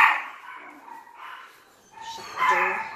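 Several dogs bark and yip indoors in bursts, loud at the start and again near the end, with a quieter stretch between.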